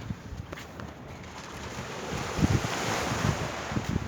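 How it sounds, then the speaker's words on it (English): Atlantic Ocean waves at Walvis Bay washing in at moderate distance, a steady surf wash with wind buffeting the microphone and a few louder low thumps toward the end. "See the water how it's waving in Atlantic Ocean."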